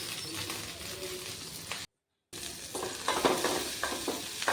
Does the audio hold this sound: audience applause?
no